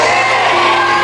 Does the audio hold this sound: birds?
no